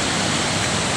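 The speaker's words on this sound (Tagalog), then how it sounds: "Rinig talaga yung agos ng tubig oh." Stream water rushing through a hidden spot in a Philippine barangay, a dense, continuous broadband roar like a small waterfall, close and fairly loud with no voices.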